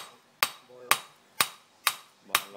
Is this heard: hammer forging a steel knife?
yes